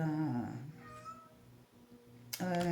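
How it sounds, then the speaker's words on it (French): A cat meows loudly and close by in a long drawn-out call, followed by a quieter murmur and a second sharp meow at the end, with a faint steady hum underneath. "oui, merci Curly, mais je parle pas le chat"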